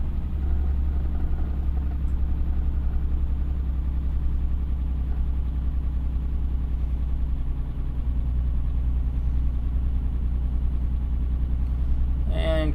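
Heavy truck engine with a ZF 12-speed transmission drones steadily at close range as the driver splits into low and shifts into sixth, a constant low rumble throughout.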